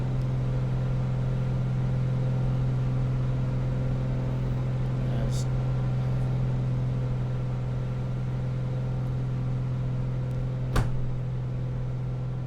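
A Piper Comanche 250 aircraft engine in the Prepar3D flight simulator drones steadily, a constant humming engine tone that holds level throughout, with a faint click near the end.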